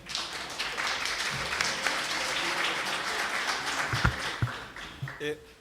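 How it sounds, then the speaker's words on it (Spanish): Audience applause at a Latin American book launch event, moderately loud clapping from a crowd with a few sharper individual claps, gradually thinning toward the end. "Así que un fuerte aplauso para Mauricio."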